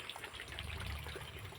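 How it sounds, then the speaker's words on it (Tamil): Water runs through a breached bund of a rain-soaked paddy field, a brief, faint, steady trickling gush with no voices. "தண்ணி போயிட்டே தான் இருக்குது ரெகுலராக."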